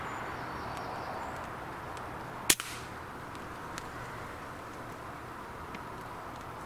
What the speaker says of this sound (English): And I take our first squirrel with a very clean headshot.